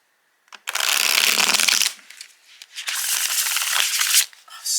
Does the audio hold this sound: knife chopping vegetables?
no